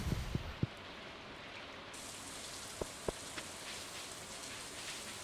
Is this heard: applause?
no